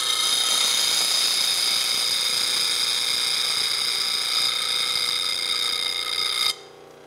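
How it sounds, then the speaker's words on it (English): A bench grinder wheel re-grinding the old bevel of a spindle gouge, giving a steady high whining, hissing grind that holds for several seconds and then drops away as the tool lifts off. "some of this is re-grinding the old bevel, so it takes a little longer for this initial grinding than whenever I return"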